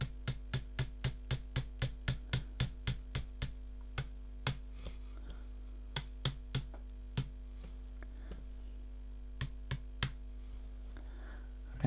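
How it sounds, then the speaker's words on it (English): A small hammer taps a part on a Walther LGV air rifle during tuning, giving a fast, even run of light metallic taps that slows to scattered single strikes over a steady low hum. "you only need a small hammer to just tap it"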